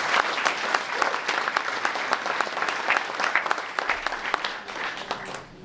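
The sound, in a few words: audience applause for the panelists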